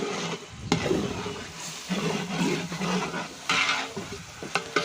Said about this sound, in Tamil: அடிப்பிடிக்காமல் அப்பப்போ கிண்டி விட்டுட்டே இருக்கணும்